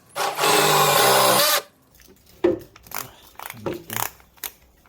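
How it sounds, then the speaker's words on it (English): A drill whines in one loud sustained burst while boring out a rivet on a snow shovel's metal edge, followed by scattered clanks and short tool noises up close. "So I'm gonna see what happens when I just drill out this remaining rivet"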